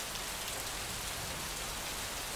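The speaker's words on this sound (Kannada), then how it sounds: "ಭಾರೀ ಮಳೆಯಾಗ್ತಾ ಇದೆ." Heavy rain falls in Himachal Pradesh as a dense, continuous hiss at an even level, with no voices or other sounds.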